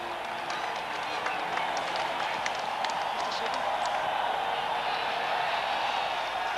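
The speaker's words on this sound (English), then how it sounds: "Give them a round of applause." Steady crowd applause at a distance, a dense even wash of many hands clapping throughout with faint speech underneath, at a celebration for a horse called The Big O.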